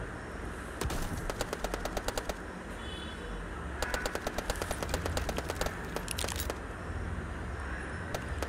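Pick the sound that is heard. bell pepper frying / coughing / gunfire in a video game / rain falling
gunfire in a video game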